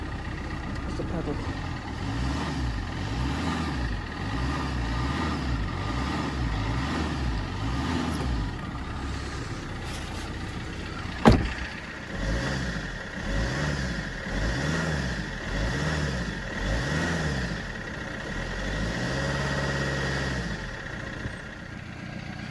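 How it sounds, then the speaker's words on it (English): A 2008 Fiat 500 Abarth replica is revved repeatedly in close range. Its small engine rises and falls in regular waves, with one sharp click partway through and a voice speaking now and then over it. "So as you heard there, it was running very nicely and very smoothly."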